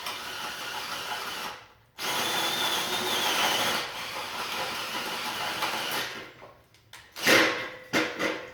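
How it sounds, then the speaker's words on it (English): A power drill whirs steadily through wood for several seconds, pauses, then runs again in short bursts with the bit grinding. "then drill from this side now"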